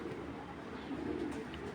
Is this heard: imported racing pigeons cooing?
yes